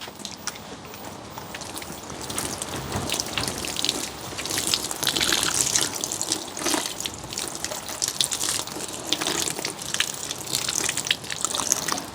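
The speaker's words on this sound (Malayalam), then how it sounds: "ഇനി നമുക്ക് കുറച്ച് വെള്ളം കൂടി ഒഴിച്ചു കൊടുക്കാം" Water gushes and splashes steadily for several seconds, poured close by onto garden plants' soil and leaves in the UK, with no talking.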